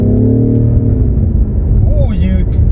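A BMW F90 M5 engine in Sport Plus mode rumbles steadily with a low, deep drone, heard from inside the car under a voice that talks throughout.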